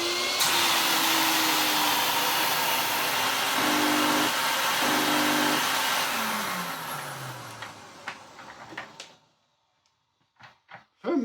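A Vax Rapide 5150 3-in-1 vacuum cleaner motor with variable speed control runs with a loud steady whine, its pitch shifting as it spins down, then cuts out, leaving a few clicks and knocks.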